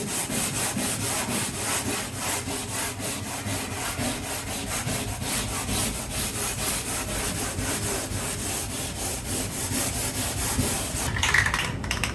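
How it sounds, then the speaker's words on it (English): Steady, continuous rasping of sandpaper stripping loose paint from a condo unit wall before priming, close and even throughout with a brief brighter scrape near the end. "So I'm just gonna sand off what's gonna come off"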